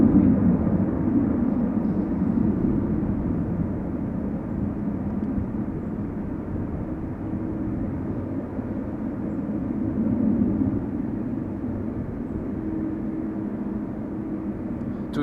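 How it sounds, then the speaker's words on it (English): A TUI airliner taxis at Amsterdam Schiphol Airport, heard as a continuous, muffled jet rumble from a moderate distance. It stays fairly even across the stretch, swelling slightly now and then, with no talking. "TUI Flight 351 is almost near the northern threshold of the center runway"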